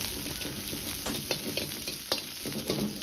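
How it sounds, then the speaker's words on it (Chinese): Ginger and scallions stir-fry in a little hot rapeseed oil over medium-low heat, giving a loud, dense sizzle with repeated scraping strokes of a spatula against the wok. "油热后保持中小火，下入姜葱，先煸炒出香味"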